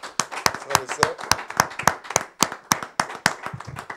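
A worship congregation claps in rhythm, sharp regular claps about four per second, close and loud, with voices mixed in beneath them.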